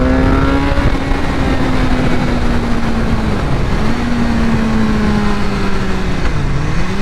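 A 2016 BMW S1000R street fighter motorcycle with a BT Moto ECU flash tune revs hard and loud up close, its engine pitch climbing through several rising pulls with brief dips between gears, and no voices are heard.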